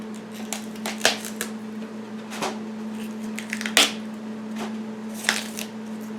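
Leaves being peeled back off a head of cauliflower for a low-carb Thanksgiving meal: close, scattered crisp snaps and rustles, a few sharper cracks, over a steady low hum, with no talking.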